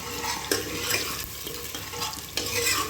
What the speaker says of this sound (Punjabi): ਤੇਲ ਆਪਣਾ ਗਰਮ ਹੋ ਚੁੱਕਿਆ ਵਾ ਤੇ ਹੁਣ ਆਪਾਂ ਇਹਦੇ ਵਿੱਚ ਪਿਆਜ਼ ਪਾ ਦਾਂਗੇ